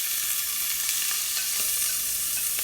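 Still-wet shrimp hit hot olive oil in a skillet and set off a loud, dense, continuous sizzle with bright crackling pops, close up and with no voices.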